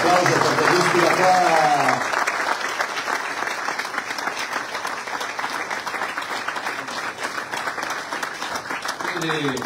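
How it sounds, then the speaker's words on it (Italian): Crowd at an Italian political rally in Lazio breaks into sustained, loud applause, many hands clapping steadily for nearly ten seconds; a voice speaks over the opening moments and again briefly at the end. "Fatevelo un applauso per la giustizia qua."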